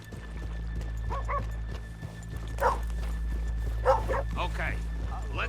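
Horse hooves clip-clop at a moderate distance over a low rumbling background, with voices and faint animal calls scattered throughout.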